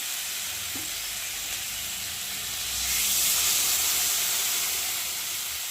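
Water poured into a hot pan of fish curry with ridge gourd sets off a steady hiss and sizzle, which swells louder midway and holds, with no talking.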